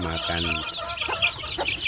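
Free-range village chickens cluck and call close by, a drawn-out harmonic call followed by several short clucks, over a faint background murmur.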